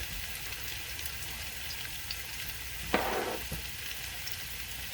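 Raw potatoes fry in a pan on medium to medium-high heat, a soft, steady sizzle at a distance, with one brief louder hiss partway through.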